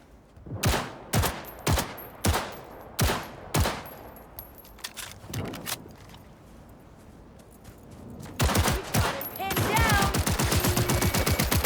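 Heavy gunfire in the video game Cyberpunk during a final-stage fight: six loud, evenly spaced single shots, a few scattered quieter reports, then a dense rapid automatic burst rattling on to the end, close and dominant.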